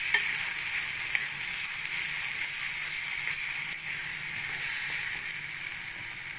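Dried fenugreek leaves frying in hot ghee for a Jain shahi paneer: a steady, bright, continuous sizzle and hiss holding level throughout, close and fairly loud with no voices.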